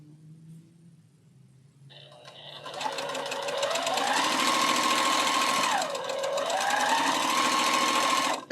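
A sewing machine sewing quilt block pieces starts after a quiet moment, its motor whirring up to a steady, fast needle rattle with a brief slowdown midway before speeding up again.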